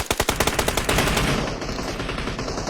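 Rapid automatic gunfire from PUBG Mobile, a quick burst of close, loud shots followed by a denser sustained volley with rattling echoes, no talk over it.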